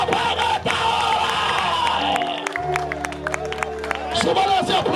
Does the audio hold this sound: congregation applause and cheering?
yes